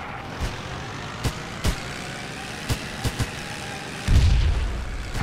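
Armor-piercing tank cannon shots in the Theatre of War video game, fired at a Panzerkampfwagen F1: several sharp, separate booms spread through a steady engine rumble, then a heavier, longer blast near the end.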